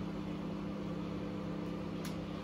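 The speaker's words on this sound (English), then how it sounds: "The microwave done." A microwave oven runs with a steady, faint mechanical hum and drone, constant throughout with no voices.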